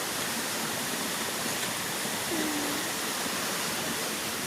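A steady, broad rush of a waterfall at Pemgiri fills the whole stretch, even and unbroken, with a faint bird call briefly rising above it.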